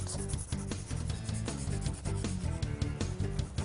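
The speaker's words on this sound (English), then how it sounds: "Notice that I am not filing around the cuticle, just the free edge and the sidewall." A nail file rasps against an acrylic nail's free edge and sidewall in quick, continuous strokes, close and steady with a rhythmic back-and-forth scraping.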